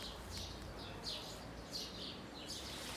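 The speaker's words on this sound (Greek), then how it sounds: "Πουλιά παντού." Birds sing and chirp in short repeated bursts by a small stream with a little waterfall in a wooded urban ravine, set against a soft steady background of running water.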